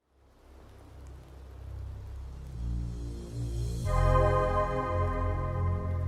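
Rain patter forms part of a song, a soft hiss of falling drops that swells gradually while sustained musical tones rise and fill in beneath it, with no voices.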